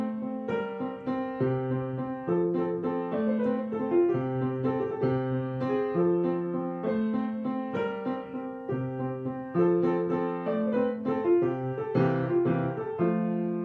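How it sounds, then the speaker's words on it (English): A piano plays for over ten seconds, bass notes in the left hand moving under right-hand melody and chords to build harmony, steady and close with no talking. "they can create harmony and it can sound something like this."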